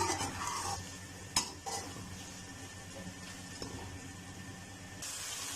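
Bell pepper stir-fried with spices in a pan, a quiet sizzle with a couple of sharp utensil knocks against the pan, no talking.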